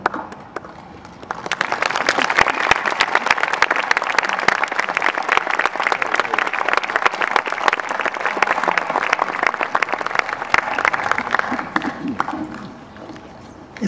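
A large audience applauds steadily for about ten seconds, dense clapping that swells quickly, holds, then tapers off.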